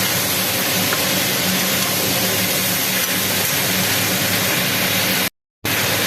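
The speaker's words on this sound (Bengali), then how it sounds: "এটা একটু ভাজা ভাজা হবে।" Ingredients for a taro and shrimp curry frying in a pan, a constant broad sizzle that stays close and even, broken by a brief silent gap near the end, with no voices.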